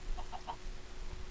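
A few soft clucks from Minecraft chickens in quick succession, quiet and somewhat distant over a low background hum.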